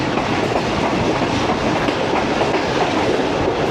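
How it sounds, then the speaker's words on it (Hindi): Fareed Express passenger train gathering speed between Walton and Kasur, a steady loud rolling roar with rhythmic clickety-clack of wheels over rail joints, continuous and close, no voices. "स्पीड पकड़ी है ट्रेन ने अब।"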